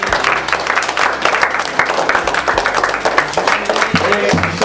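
A church congregation applauding to acclaim Jesus, loud sustained clapping from a crowd with cheering voices and music underneath.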